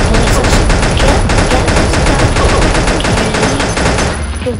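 Dense, sustained video-game gunfire: rapid bursts of automatic shots crackle continuously and loudly for several seconds, easing off slightly at the very end.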